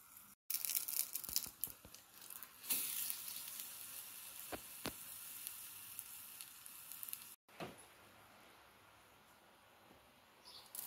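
Pancakes frying in an oiled pan over lowered heat, giving a steady soft sizzle with faint crackles and a few brief pops throughout, fairly quiet and close, with no talking.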